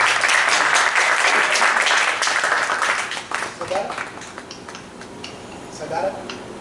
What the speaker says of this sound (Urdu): پرجوش تالیوں کے ساتھ قاضی حبیب الحق کا استقبال کیجیے